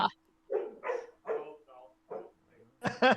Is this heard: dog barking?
yes